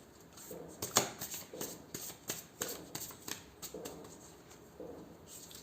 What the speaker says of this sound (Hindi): चलिए फिर इसको थोड़ा शफल कर लेती हूँ।